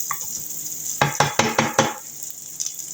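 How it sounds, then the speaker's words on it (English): Chillies sizzle in butter in a frying pan for garlic-chilli butter oysters, a steady close hiss with a quick run of four or five stirring scrapes and clinks in the middle. "And we're going to give that a bit of a sizzle too."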